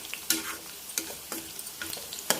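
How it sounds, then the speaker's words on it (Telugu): Bitter gourd deep frying in a pan with a soft steady sizzle, broken by several sharp scraping stirs of a utensil at irregular intervals, fairly quiet and close with no talking. "బాగా వేగాలి, డీప్ ఫ్రై కావాలి."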